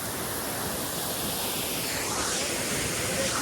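Camugao Falls in Balilihan, Bohol, a tall and powerful waterfall pouring steadily, giving a dense, unbroken rushing wash of water with no breaks and no voices on top.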